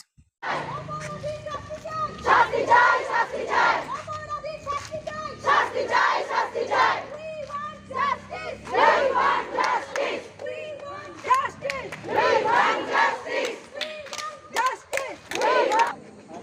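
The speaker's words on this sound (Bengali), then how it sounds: "স্লোগান একটাই উই ওয়ান্ট জাস্টিস" A large crowd of women at a night protest chants a slogan for justice in loud, rhythmic unison, the shouted phrases repeating in waves with brief gaps between them.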